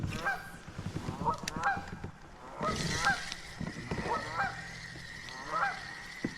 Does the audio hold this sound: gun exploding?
no